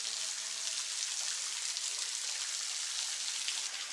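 Steady hiss of water falling at a calm cliffside pond in Hocking Hills, Ohio, a soft, even splashing rush that continues unbroken and fairly faint, with no voices.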